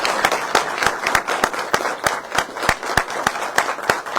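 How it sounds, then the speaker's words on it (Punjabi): A crowd at a political gathering held after the Delhi election defeat of the Aam Aadmi Party claps in steady, rhythmic, evenly spaced beats. The clapping is close and loud, with no voices over it. "ਇੱਕ ਵਾਰ ਜ਼ੋਰਦਾਰ ਤਾੜੀਆਂ ਮਾਰੋ"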